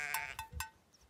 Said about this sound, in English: I think this sheep is expecting something.